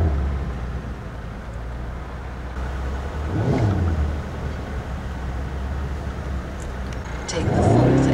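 A 2018 Mercedes-AMG E63 S 4MATIC+ driving on the road, its engine and exhaust a deep steady rumble with swells of acceleration, heard from inside the car without talk.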